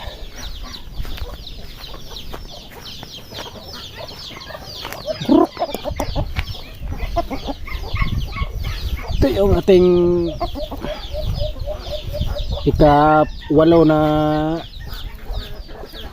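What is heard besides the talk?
chickens and roosters clucking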